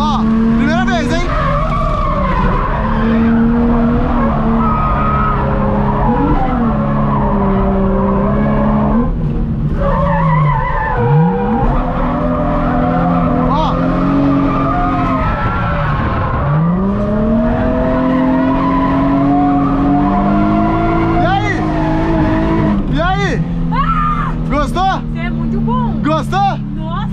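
A car drifts around a championship race track with sustained, loud tire skidding and squeal over a steady engine roar, while people talk excitedly throughout.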